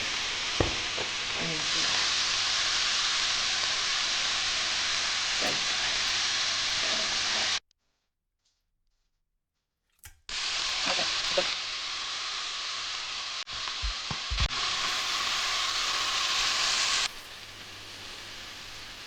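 Chopped garlic and ginger frying in hot oil, a loud continuous sizzle close by, cut off by a short silence midway, then resuming with occasional clinks of stirring.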